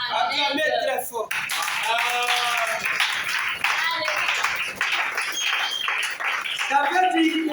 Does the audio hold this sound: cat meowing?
no